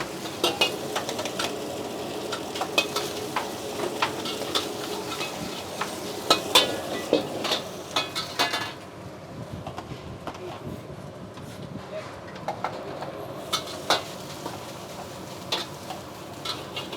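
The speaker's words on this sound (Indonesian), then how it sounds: "Kita bikin nasi goreng Singapura." Singapore fried rice is stir-fried in a wok: a constant sizzle runs throughout while a metal spatula scrapes and clanks against the pan in irregular bursts, with the sizzle dropping lower partway through and faint talk in the background.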